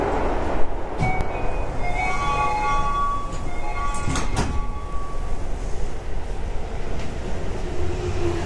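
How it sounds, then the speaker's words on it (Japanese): A Keio 5000 series train on a through service between Sumiyoshi and Kikukawa closes its doors with a thump and departs, heard from inside the car. A steady rumble runs throughout, with whining motor tones and brief clunks as the train pulls away. "ドアが閉まります。"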